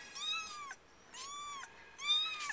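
Kittens found under a deck give three high, thin meows in a row, close and fairly quiet, each lasting about half a second, with short pauses between them.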